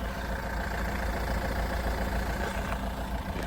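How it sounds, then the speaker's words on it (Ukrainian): A 2013 Renault Scenic minivan engine idles steadily with a low, even rumble and faint mechanical hum, continuous and close, with no other sounds. "Послухайте, як як працює двигун. Він просто муркоче."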